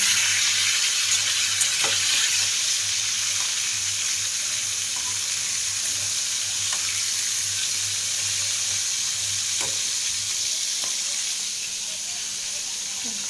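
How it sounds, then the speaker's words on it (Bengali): Fish fry in hot oil, giving a steady, close hiss and crackle that holds evenly throughout with a faint low hum beneath and a few soft clinks. "তো মাছ ভাজা বসিয়ে দিয়েছি।"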